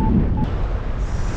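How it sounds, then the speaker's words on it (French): Wind rushing past during a paragliding flight at the Dolomiti Superfly 2022 competition: a steady, broadband roar of gusts buffeting the microphone, loud and continuous throughout with no voices. "il y a du vent quand même"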